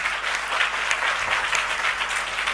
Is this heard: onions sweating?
no